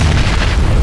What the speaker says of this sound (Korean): 아 수류탄!